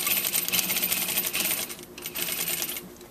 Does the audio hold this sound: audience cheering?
no